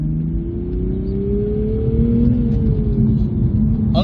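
A 2022 Toyota GR Supra 3.0 with a manual gearbox accelerates hard on a public road, its engine note climbing in pitch before easing off, loud and close from inside the car.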